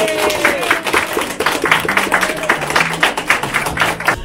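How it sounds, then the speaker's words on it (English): A school audience claps steadily for several seconds for a teacher of the year, dense and fairly loud, with scattered cheers mixed in. "would you give her a round of applause?"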